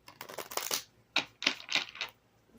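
A deck of oracle cards is riffled and shuffled in several quick bursts, crisp papery rattles with short pauses between, close and fairly loud with no talking.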